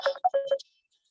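A short burst of electronic phone ringtone tones, a few quick pitched beeps in a tight rhythm that stop abruptly, close and fairly loud, during a pharmacy counseling practice session.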